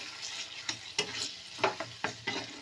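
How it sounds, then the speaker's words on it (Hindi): Potato halwa cooking in a pan while being stirred: soft sizzling underneath a series of quick scraping strokes from a spoon against the pan, close and fairly quiet, with no talking. "इसे हम बिल्कुल ड्राई होने तक अच्छे से पका लेंगे।"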